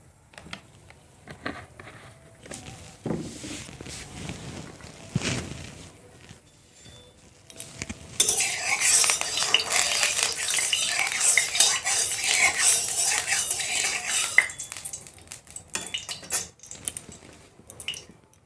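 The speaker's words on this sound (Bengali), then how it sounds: "তেলের মধ্যে দিচ্ছি টুকরো করা আদা, পেঁয়াজ, রসুন" Chopped ginger, onion and garlic go into hot mustard oil in a wok for a masala egg curry. Metal utensil clinks and stirring come first, then a loud, sustained hiss of frying with scattered clatter.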